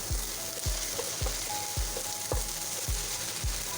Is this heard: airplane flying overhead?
no